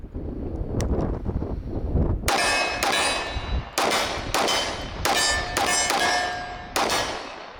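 A Wilson Combat X-TAC Elite Commander custom 1911 in .45 fires outdoors at steel targets set at 15 and 20 yards. A string of sharp shots rings out, each followed by a metallic clang, over wind noise on the microphone.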